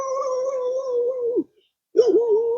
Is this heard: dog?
yes